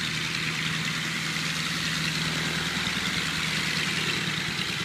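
A small plane's engine idles at Crow Island airfield, a steady droning hum with a low, constant tone and wind-like rush running unbroken throughout, with no voices.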